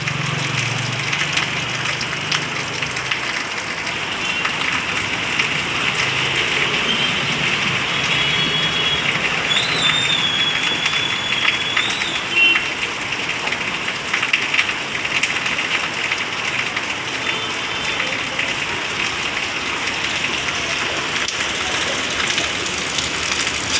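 Heavy rain pours steadily onto surfaces, a loud unbroken hiss lasting throughout, with a faint engine idling low underneath and no clear talk.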